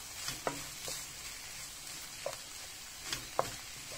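Bell pepper and garlic frying in a pan, a steady close sizzle with a few soft clicks of stirring utensil against the pan, no voices.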